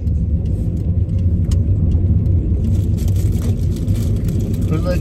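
A car drives with a steady, loud engine and road rumble heard from inside the cabin, lasting the whole time with no break.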